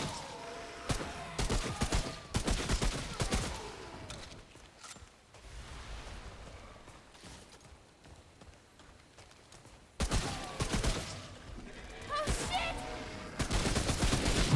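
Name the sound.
enemy shotgun fire in video game Remnant: From the Ashes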